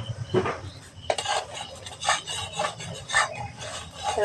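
A spoon or spatula stirring spice masala for an okra and yogurt curry in a pan over medium heat, making rhythmic raspy scrapes repeating about every half second over a faint sizzle.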